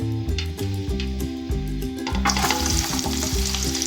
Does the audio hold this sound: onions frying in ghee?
yes